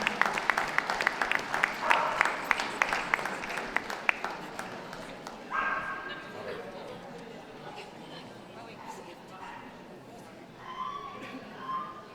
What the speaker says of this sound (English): Could we have a round of applause for those leaving the ring, please?